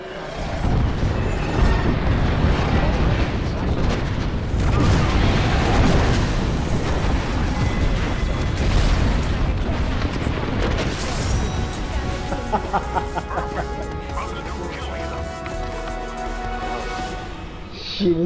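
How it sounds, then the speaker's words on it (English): Airstrike explosions in the battle royale game Apex Legends, a dense run of heavy booms and crashing bursts for most of the stretch, loud and close, fading into quieter game sounds with some talk toward the end. "Calling the airstrike."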